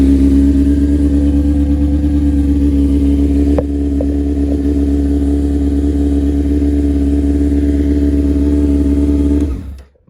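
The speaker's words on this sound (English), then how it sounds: "Start the bike up." A 2001 Honda CBR600 F4i motorcycle idles steadily and close after starting, a loud even engine hum that continues for several seconds before cutting off abruptly at the end.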